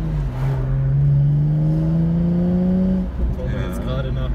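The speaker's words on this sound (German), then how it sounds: "Und hört sich gut an, der Auspuff." A car engine revs on the Nordschleife, with the middle muffler empty, holding a rising exhaust drone, then drops off as the note fades, with a brief whir afterward.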